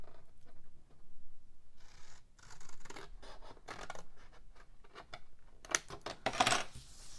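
Scissors snipping through paper and file-folder stock in a craft session, irregular scraping cuts and sharp snips building to a louder crunchy cluster near the end, close and unaccompanied by speech.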